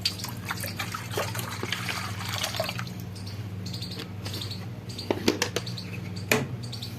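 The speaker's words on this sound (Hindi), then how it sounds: "अब इसके अंदर हम डायरेक्ट बोतल से भी पानी डाल सकते हैं।" Water poured straight from a bottle into a container while washing silver powder, a soft trickling and splashing with occasional drips, quiet and close with no talking.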